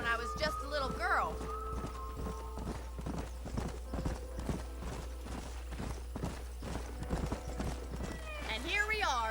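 Horse hooves clip-clop in Red Dead Redemption 2 as horses are hitched and ridden to a farmhouse, an even, steady walking rhythm close by, with whinnies and a voice speaking over the hooves at the start and end.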